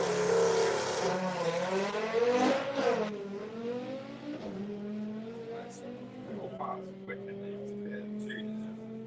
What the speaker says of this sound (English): it's going to be a solo run for the Golf R on full Hoosiers as well